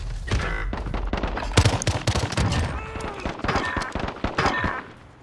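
Rapid automatic gunfire in Call of Duty: Modern Warfare, with dense overlapping bursts and sharp shot cracks filling the whole stretch, loud and close, with brief voice sounds mixed in.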